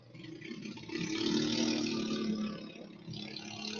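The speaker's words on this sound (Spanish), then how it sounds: "la señal de la moto que acaba de pasar, no la queremos" A motorcycle passes by, its engine a broad, loud roar that swells and stays strong for a few seconds, then eases slightly as it moves away.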